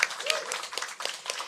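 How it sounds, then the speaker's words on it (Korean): Scattered audience clapping at a press conference held by a city mayor, moderately close and brief, with voices talking over it. "박수 부탁드립니다"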